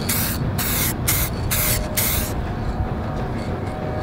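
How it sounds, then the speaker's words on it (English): A can of Montana metallic effect spray paint hissing in several short bursts, then one longer continuous spray, close and loud over a low background rumble. "So let's go ahead and start spraying it."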